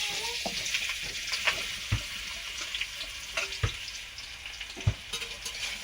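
Tomatoes fry over low heat in a little white oil in a wok, giving a steady soft sizzle broken by a few sharp clanks of a stirring spatula, close and alone.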